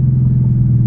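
A 2015 Ford Mustang GT Premium Track Pack with an SVE stage 2 exhaust idles steadily, giving a deep, loud, even rumble with no revving and no voices.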